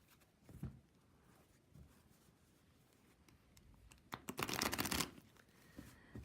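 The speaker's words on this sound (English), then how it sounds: "let's try a little riffle." A tarot deck is handled quietly with a few soft card taps and slides, then riffle shuffled in a single quick, buzzing flutter of cards close by, followed by a soft settling tap.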